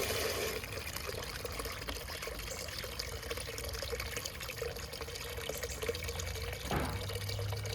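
Water from an automatic chicken waterer trickles and pours steadily into the small drinking cups, a soft continuous flow with faint dripping, then a brief clunk near the end.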